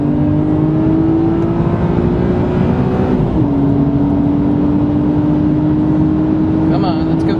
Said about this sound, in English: So I'm going to go full throttle now.